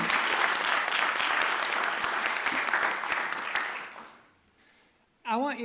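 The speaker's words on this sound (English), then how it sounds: "I think we should give a round of applause for our talented three." Audience applause at a spoken word poetry event, a loud sustained burst of clapping from a crowd that fades out over about four seconds before a voice begins.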